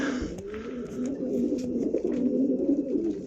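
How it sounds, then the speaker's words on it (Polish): Red Janssen and Ardennes racing pigeons coo in soft, repeated throaty rolls close by, a continuous low murmuring chorus with light rustling and no talking. "Zobaczcie, jakie piękne gołębie."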